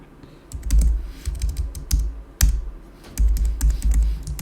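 Rapid clicking of computer keyboard keys as a file name is typed, in short uneven bursts with brief pauses, close and fairly loud with no speech.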